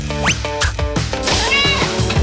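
A cat meows repeatedly up close, several loud, rising and falling calls in quick succession.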